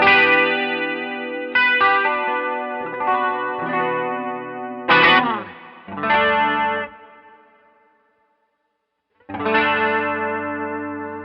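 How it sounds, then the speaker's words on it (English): An electric guitar through an Ibanez SC10 Super Stereo Chorus pedal with the delay time turned up for a Boss CE-2 style tone. Sustained chords and single notes shimmer with a wavering, swirling modulation, played in separate phrases with a short silent gap. "the super stereo chorus by Ibanez gives you a delay knob, so you can kind of choose a more CE2-esque sound if you crank that delay time a little bit more"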